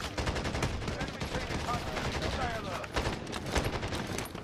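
Rapid bursts of gunfire fill a Warzone Rebirth battle royale match, dense overlapping shots and fusillades running continuously and loudly throughout, with a voice talking faintly underneath.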